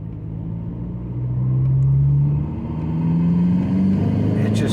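An MK5 Volkswagen TDI diesel car, built with a BRM engine and GTB2265 turbo for about 250-300 hp, accelerates from a coasting pace in a low gear. Its steady engine drone swells and rises in pitch twice, heard from inside the car.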